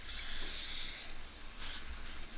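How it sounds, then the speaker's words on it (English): Cooking spray hisses into a 9-inch glass casserole dish in two close bursts, a longer spray followed by a shorter one after a brief pause. "we're gonna spray it with your favorite cooking spray"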